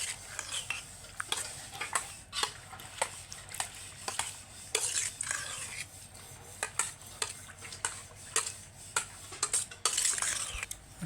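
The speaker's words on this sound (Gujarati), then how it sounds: "મિક્સ કરી નાખીએ હવે." Bottle gourd raita is stirred in a bowl with a spoon, producing a steady series of soft scraping and clinking strokes, close and quiet, in an irregular rhythm.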